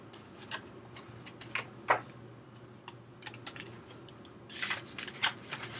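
A small plastic folder slid out of iPhone 4 case packaging, giving soft scattered plastic clicks and ticks followed by a brief crinkly rustle near the end.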